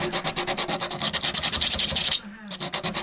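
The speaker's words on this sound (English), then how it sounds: "relying on the mix with the edge of the wood and the edge of the sandpaper to create a straight edge, sanding this out" Sandpaper rubbed along the wooden edge of an Encore Strat-style guitar body during refurbishment, a loud, close rhythmic rasp of steady back-and-forth strokes with a brief pause near the end.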